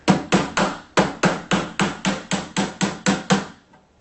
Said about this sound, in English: Be careful when you're nailing them that you don't end up having your nails go off at a tangent inside the cabinet.